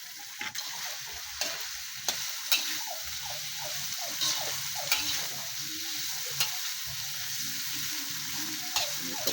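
A vegetable omelette sizzles steadily in a frying pan, with a constant crackling hiss and repeated clicks and scrapes of a utensil stirring, close and fairly loud with no talking.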